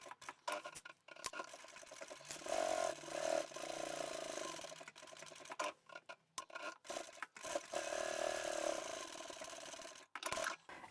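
A sewing machine stitching down a pocket on a scrap-fabric shopping tote, with bursts of quick mechanical whirring that start and stop, broken by short pauses and soft handling sounds, fairly quiet and close.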